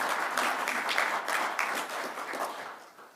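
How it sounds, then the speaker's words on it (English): Audience clapping at a political speech by Ontario Premier Ford, a dense burst of many hands applauding steadily and fairly loud, fading slightly toward the end, with no voices over it. "I can see there's some Ontario folks in here too clapping"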